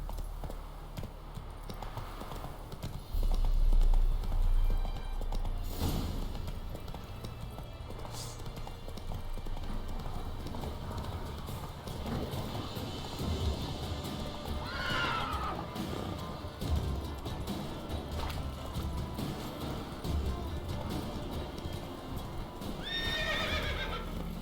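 Horse hoofbeats and neighing in the video game The Witcher 3, with steady clip-clop running under game ambience and sharp whinnies breaking out a few times, one near the middle and one near the end.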